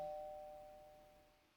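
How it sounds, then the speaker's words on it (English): A soft electronic doorbell chime rings once, its clear tone fading gradually over a second and a half in a quiet room, with no talk. "Is that the doorbell?"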